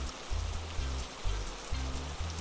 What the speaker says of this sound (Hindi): उनके ऐसा करते ही पृथ्वी लोक पर मेघमंडल घिर जाते हैं और चारों तरफ भारी वर्षा होने लगती है।